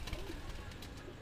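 Madrasi pigeons coo softly in short low murmurs, close and quiet, over faint background noise.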